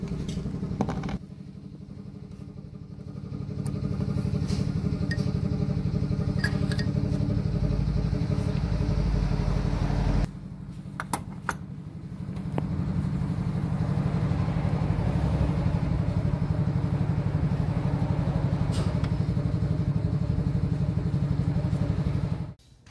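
A vehicle engine idles steadily and close by after its fuel injector washers, worn and heat-damaged, were replaced while chasing heavy exhaust smoke; the low running hum continues throughout with a brief dip partway, no talking.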